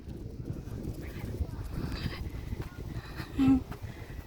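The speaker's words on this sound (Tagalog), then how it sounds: "Nagtatakbuhan ng mga tupa pabalik dun sa barn." Sheep run back to the barn at Rokko Bokujo farm in Japan, their hooves pattering in a quick, uneven clatter nearby, with a voice calling out partway through.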